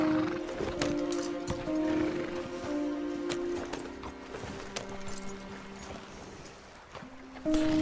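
Horse hooves clip-clopping in the video game Red Dead Redemption 2, a steady walking rhythm of soft hoof falls under a quiet musical drone, fairly faint and continuous.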